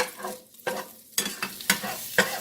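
Steak-umm meat frying in a pan while a fork and spatula break it up: a sizzle broken by a series of sharp scraping and tapping strokes at an uneven rhythm, close and fairly loud.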